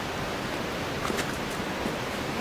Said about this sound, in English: I hear the falls, so we got to be close.